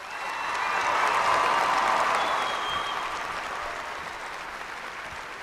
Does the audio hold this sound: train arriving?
no